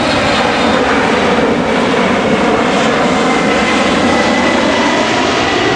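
A Delta passenger jet passes overhead near Fort Kamehameha, its engine roar loud, broad and continuous throughout with no voices.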